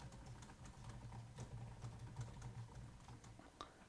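Quiet tapping of a computer keyboard in a CorelDRAW text-editing session: irregular clicks on and off throughout, faint and close, over a low steady hum, no voices.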